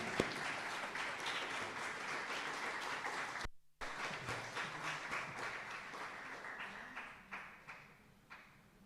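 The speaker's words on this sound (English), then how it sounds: "Round of applause, please, for Lev." An audience at a junior school speech day claps for a pupil receiving a music prize, steady applause from a large room that carries on, briefly drops out, then resumes and gradually thins out.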